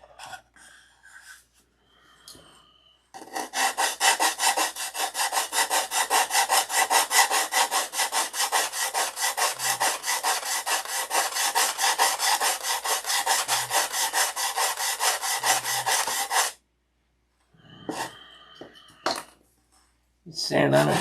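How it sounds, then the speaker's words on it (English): Hand sanding of a Sig Magnum part, a long run of fast, rhythmic rasping strokes lasting about thirteen seconds, close and steady, framed by brief quieter handling sounds and faint breathing before and after. "Sand on it forever with that."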